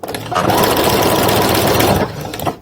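A sewing machine runs in one steady, loud, close burst for about two seconds while stitching over a lettuce hem on a tube top, then stops.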